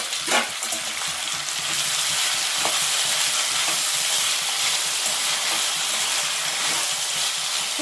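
Washed vegetables for a poha (avalakki) dish fry in a pan with a strong, even sizzle and hiss, a few stirring clatters near the start, no talking.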